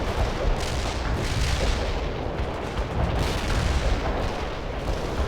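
Artillery barrage in the World in Conflict strategy game, a dense continuous rumble of overlapping distant booms and detonations rolling on without pause, no speech.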